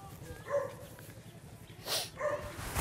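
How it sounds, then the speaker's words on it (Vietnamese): A dog barks in short bursts, a few quick yaps and yelps in a Vietnamese comedy scene, close and moderately loud with talk-like background noise around it. "Anh lại trêu chó nhà em đấy à?"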